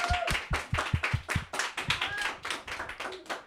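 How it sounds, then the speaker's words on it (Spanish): Applause for a departing guest on a Catholic talk program, a few hands clapping in distinct, fairly rapid bursts, close and moderately loud without speech. "Agradecemos y despedimos con un fuerte aplauso a Jorge Caro."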